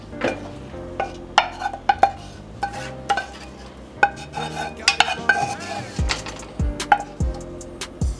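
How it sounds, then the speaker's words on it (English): A spoon stirring plant-based seafood mac and cheese with shrimp in a dish, giving repeated close scraping and clinking knocks at an uneven rhythm, with soft wet squelches between them. "I'm just gonna mix this really well to make sure every layer of our mac has a bite of the shrimp"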